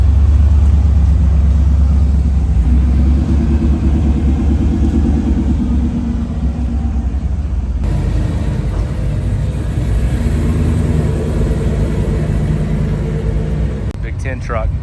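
Big truck engine rumbling as it rolls out of a truck show, a loud low continuous drone with a gear shift midway, people talking nearby.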